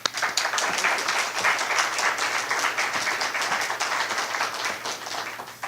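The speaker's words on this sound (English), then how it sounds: "You can keep clapping." An audience at a political event applauds to welcome a candidate for California Secretary of State, a sustained, even roar of many hands clapping without speech.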